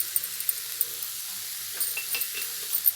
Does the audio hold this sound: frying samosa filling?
yes